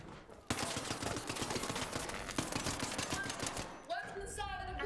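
Rapid automatic gunfire in a video game, a dense, sustained burst of shots close by for several seconds, followed by distinct clattering game sounds.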